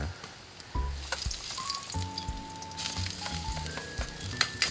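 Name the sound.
ginger and garlic sautéing in pan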